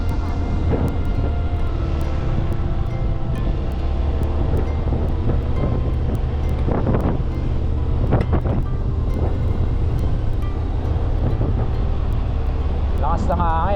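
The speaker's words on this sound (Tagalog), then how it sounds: "Lakas ng hangin ah." Strong wind roars across the microphone while riding a Fazzio 125 scooter on a road in Siquijor, a loud, steady buffeting rush that fills the whole stretch, with the faint hum of the scooter underneath.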